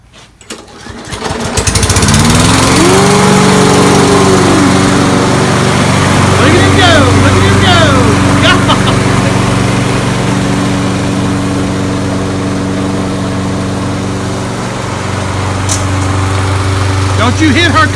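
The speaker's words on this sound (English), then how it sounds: "Brand new lawnmower." A brand new self-propelled lawn mower runs loud and steady close by, its engine drone holding for the whole stretch after starting up, with a voice speaking briefly over it.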